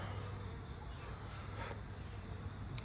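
Honey bees at a struggling beehive in an apiary, a steady low buzzing hum with faint higher insect whine, continuous and moderately close, no voices.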